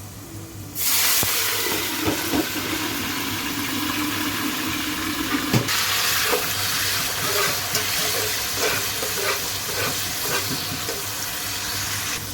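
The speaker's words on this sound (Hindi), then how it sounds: "अब इसमें मैं पानी ऐड कर रही हूँ।" Water poured onto fried onions in a hot pan for chicken yakhni pulao bursts into a loud, hissing sizzle that keeps bubbling steadily, with a few spoon taps against the pan.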